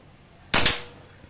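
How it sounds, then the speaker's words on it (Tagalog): A single sharp crack from a long-tank PCP air rifle firing its first shot, close and loud, with a quick decaying tail and quiet before and after. "So yun po ang ating unang putok."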